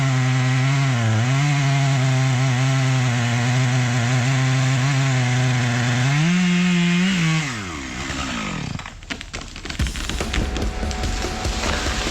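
A chainsaw cuts firewood, its engine droning at a steady high pitch that rises and falls under load, then bogs down and stops as the cut finishes, leaving clattering and handling noise. Loud and close, with no talking.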